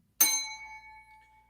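A single bright bell-like notification ding, struck sharply and ringing out with a clear sustained tone that slowly fades, alone in otherwise quiet surroundings.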